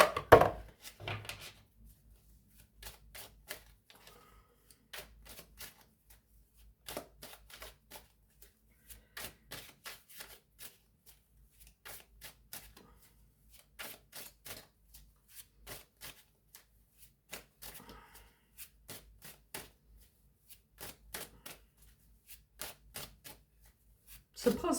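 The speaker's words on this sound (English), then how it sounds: "let's pull a couple of cards there for my number 4s" Tarot cards shuffled and drawn in repeated soft riffling bursts and taps, close and fairly quiet, with brief pauses between handfuls and occasional speech in between.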